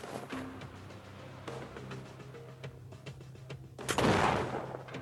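Pistol shots in a pirate first-person shooter video game, a few scattered cracks over faint background game noise, ending in a louder burst near the close, with no talk.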